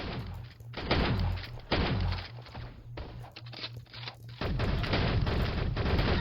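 Rapid video game gunfire rattles in dense bursts, loud and continuous across the moment with brief pauses between volleys, over a steady low background hum.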